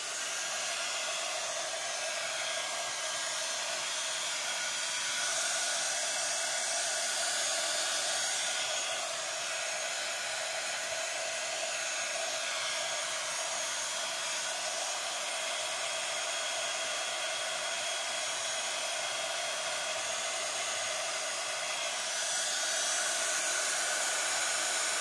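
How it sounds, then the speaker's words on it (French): Heat gun blowing steadily to dry ink on a mixed-media Halloween skull craft, a continuous loud airy whoosh lasting throughout with no talk, its tone shifting slightly as it moves. "je vais à nouveau utiliser le heat gun, je suis vraiment désolée, hein, pour sécher le plus gros de l'encre"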